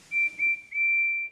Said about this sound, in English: Now, Percy's whistle is very loud.